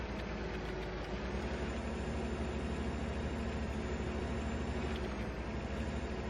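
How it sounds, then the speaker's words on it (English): Tractor engine in Farming Simulator 15 working a cultivator along terraces on a Nebraska field, a continuous even rumble with a faint pulsing beat, steady and unbroken, with no voices. "If I can keep the tractor straight."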